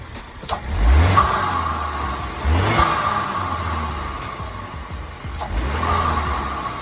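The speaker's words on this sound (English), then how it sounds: "You hear that more throaty intake sound when I hit the gas?" A Cadillac ATS 2.0 turbo fitted with a Mishimoto intake tube revs twice in close, loud blips over a steady engine drone, with a deeper intake tone swelling on each press of the throttle.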